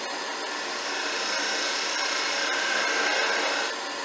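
A skew chisel shaves wood on a turning lathe, a continuous, close hissing scrape with faint rhythmic variation and a brief thin whine toward the end, heard alone.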